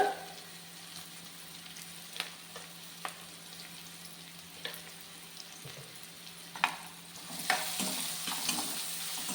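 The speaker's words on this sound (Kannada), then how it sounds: "ನೀಟಾಗಿ ಮಿಕ್ಸ್ ಮಾಡ್ಕೊಳ್ಳೋಣ" Greens and salt are stirred in a hot pan, soft scraping and clinking strokes over a low sizzle, with the frying growing louder near the end.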